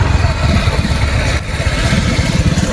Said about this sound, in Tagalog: Ayun, may mga motor.